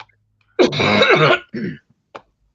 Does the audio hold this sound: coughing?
yes